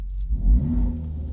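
A Hyundai Veloster JS 1.6 T-GDi with a tuned exhaust revs sharply from idle, a brief deep, throaty engine surge heard up close without talk.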